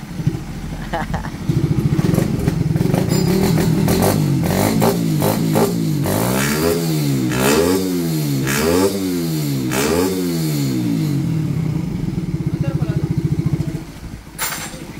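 A super stock motorcycle engine with loose compression idles and revs repeatedly up and down, loud and close, with some clattering throughout.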